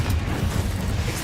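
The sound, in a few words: Confringo spell cast in a wizard video game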